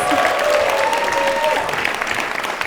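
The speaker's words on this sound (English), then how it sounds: "Round of applause, please" Applause from a comedy club audience at a live stand-up show in Melbourne fills the room steadily throughout, a dense wash of clapping with a faint tonal line running through it.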